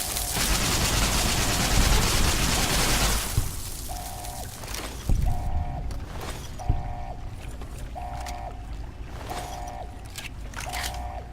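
Gunfire in a Fallout game: a dense, loud burst of shots at first, then a series of regularly spaced single reports with a short ringing tone after each one.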